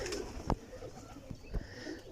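Pigeons in a rooftop loft cooing softly at close range, with a couple of sharp taps and thumps and faint background noise.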